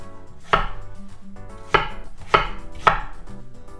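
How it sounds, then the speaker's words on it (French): Four sharp knife chops on a cutting board as apples are cut into coarse cubes, irregularly spaced, close and crisp, each with a brief woody knock. "je vais couper mes pommes en cubes assez grossiers."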